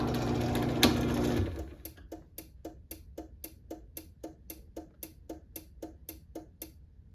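A Chamberlain C410 garage door opener runs with a loud motor drone that cuts off abruptly after about a second and a half, followed by a steady series of sharp, evenly spaced clicks.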